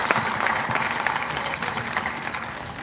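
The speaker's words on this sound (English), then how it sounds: "please another round of applause for this very good and promising speech." Audience applause at the opening ceremony of the 2023 East African Community MDD Festival in Arua City, Uganda: a steady, dense crowd clapping that holds at an even level throughout, with a few faint voices mixed in.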